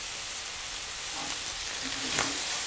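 Udon noodles dropped into a hot pan on high heat with stir-fried vegetables and seafood, giving a soft, fairly quiet sizzle that swells briefly near the end.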